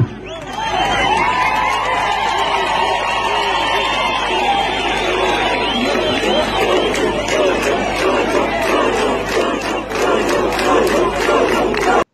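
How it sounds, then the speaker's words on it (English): A large crowd at the Black First, Land First rally chants and shouts together in a loud, continuous roar, with rhythmic bursts and whoops running throughout. "That was Black First, Land First, a rally that happened"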